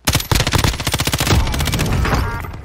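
Rapid, loud automatic gunfire from the video game Modern Warfare rattles out in a fast burst of shots, close and punchy, then trails into a dense echoing tail.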